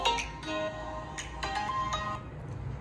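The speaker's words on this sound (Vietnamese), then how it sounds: "Mình sẽ vào cái nhạc cho bạn luôn" A short melodic tune plays through a small Samsung phone speaker, thin and tinny, with bright repeated notes at moderate volume.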